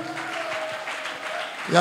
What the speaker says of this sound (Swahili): Hebu piga makofi kwa ajili yake.